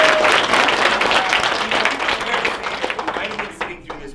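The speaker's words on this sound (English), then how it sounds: "I'd like to make sure that we give Jerome a round of applause." An audience gives a round of applause, loud sustained clapping that tapers off over about four seconds into a few scattered claps.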